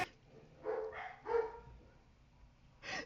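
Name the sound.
dog barking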